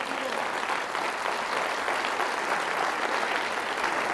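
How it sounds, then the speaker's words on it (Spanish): A church congregation applauds in steady, moderately loud clapping that continues evenly throughout, with no break and no voice standing out. "Denle un aplauso al Señor."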